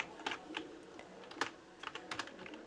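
Quiet, close keystrokes on a computer keyboard while someone types Python code for a Pygame space shooter game, in uneven bursts of taps and clicks.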